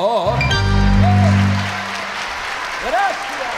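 Audience applause breaking out at the close of a tango song at the Tango en la Bahía 2023 show, loud and full for about a second and a half, then fading, with a voice speaking over the tail.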